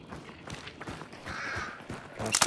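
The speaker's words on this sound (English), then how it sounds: "Watch the birds." Crows caw in the game Hunt: Showdown, a few harsh calls rising over faint footsteps and ambient game sound, with a louder burst of noise at the very end.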